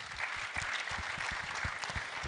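An audience breaks into sustained applause, a dense, even patter of many hands clapping at close range for the full duration with no voices over it.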